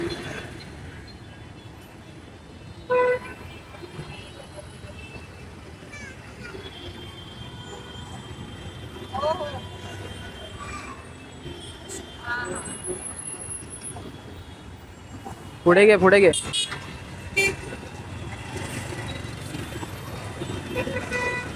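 A Shree Swami Travels bus from Ajara, Kolhapur pulls in with a steady engine rumble and a few short horn blasts, the loudest near the end, while men nearby call out to each other.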